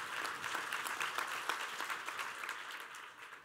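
An audience at an on-stage conversation claps together, a fairly faint, distant patter of many hands that swells briefly and then tapers off near the end.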